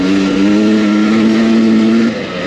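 A 2023 Husqvarna TE300i dirt bike accelerates hard, its two-stroke engine a loud, close, rising buzzing whine that holds high revs before dropping off near the end.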